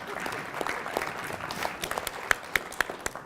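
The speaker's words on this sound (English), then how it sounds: "Yes, you can clap." Scattered applause from the audience at an inaugural city council meeting in Penticton, fairly faint with distinct individual claps growing sharper toward the end.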